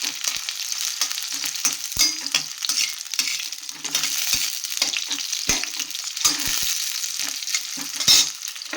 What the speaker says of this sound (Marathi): कांदा आपला चांगला फ्राय झालेला आहे, थोडासा शॅलो फ्राय करायचा आहे